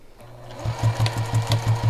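A domestic sewing machine with a quarter-inch foot stitches binding onto a quilt, starting up and settling into a fast, even run of close, rhythmic needle thumps.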